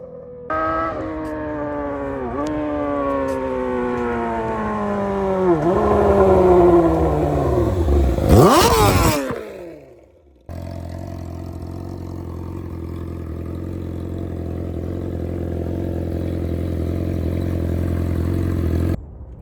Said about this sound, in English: 2019 Yamaha R6. Full titanium Akrapovic exhaust. Thing sounds so nice.